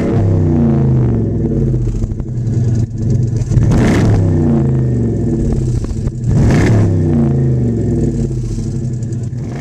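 A 2008 Dodge Charger SRT8 Super Bee Limited Edition V8 idling with a deep, loud rumble, then revved sharply twice, each blip rising and settling back to idle, recorded up close.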